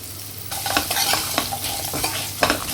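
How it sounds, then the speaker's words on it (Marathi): Onions cooked soft and sprinkled with turmeric are stirred in a pan, a steady sizzle beneath repeated scraping strokes of the spoon, close and fairly loud with no talking. "आपलं मिक्स करून झालंय"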